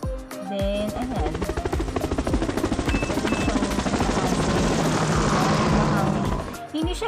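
A foldable rechargeable fan switched on by remote runs with a steady, whirring drone close to the mic, its airflow rushing continuously for several seconds after a brief button press.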